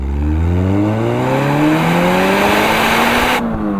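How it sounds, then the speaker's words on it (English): A four-cylinder car engine revs hard toward 7,000 rpm, loud and close, its pitch climbing steadily before cutting off sharply near the end. "Let's rev all the way to 7."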